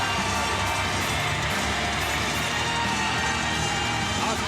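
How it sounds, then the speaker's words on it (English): A packed wrestling crowd in Long Beach, at a Tanahashi versus Ospreay match, roars in a dense, continuous wall of cheering and yelling that stays loud and unbroken throughout. "As we listen to the crowd explode here in Long Beach."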